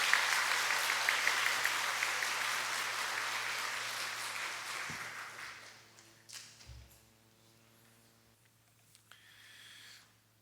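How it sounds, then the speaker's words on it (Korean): A church congregation at a Korean Methodist Sunday service applauds to welcome children just given infant baptism. The clapping is loud and dense, then thins and fades out after about five seconds, leaving quiet sustained tones and a few soft knocks. "박수로 환영해 주시기 바랍니다."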